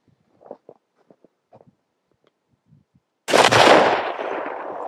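Gunfire sets off a tannerite target outdoors: a loud, sudden blast erupts after soft rustling and light footsteps, then rolls on as a long, fading rumble.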